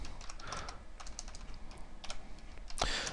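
Typing on a computer keyboard, a run of uneven, sloppy keystrokes with short pauses between bursts and a louder cluster of clacks at the end, close and alone without talk.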